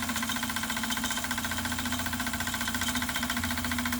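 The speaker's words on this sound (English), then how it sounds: "You can hear the engine pick up." A Retrol SE-02 model steam engine runs steadily with a fast, even chuffing and mechanical knocking, close up with a constant low hum beneath.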